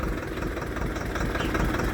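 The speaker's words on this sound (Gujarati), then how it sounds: "આપણે કપાસની અંદર કટર મારી રહ્યા છીએ મિની ટ્રેક્ટરથી." A mini tractor with a rotavator cutter works between cotton rows, its engine running steadily with a close, rough, continuous drone and no pauses or talk.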